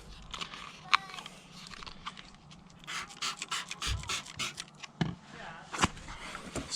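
Microfiber towel rubbed over MINI car paint, close, soft scratchy wiping strokes in uneven bursts, quiet, with occasional low talk.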